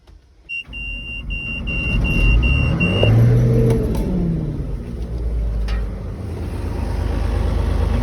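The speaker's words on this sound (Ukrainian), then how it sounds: "просто шепче цим мотором. Він настільки тихо робить, що ви собі не представляєте" A John Deere combine harvester with a four-speed gearbox runs its engine, a steady low rumble that swells slightly as if revving, with a faint high electronic beep early on and no talk.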